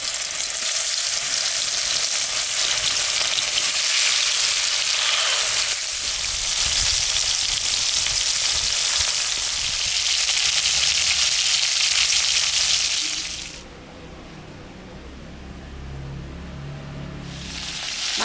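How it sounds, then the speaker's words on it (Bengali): Fish seasoned with salt and turmeric fries in hot oil in a wok, giving a loud, dense, continuous sizzle for about thirteen seconds before it drops abruptly to a much quieter bubbling, then returns near the end. "মাছটা ভাজা হয়ে গেছে বন্ধুরা আমি এখন তুলে নেব"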